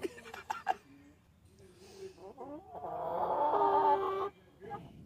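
Backyard hens in a garden give scattered soft clucks and a longer, louder drawn-out cackle in the middle, fairly close and otherwise quiet.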